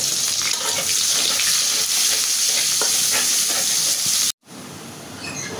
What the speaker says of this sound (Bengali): এই তেলেই আমি পেঁয়াজ দিয়ে দেব।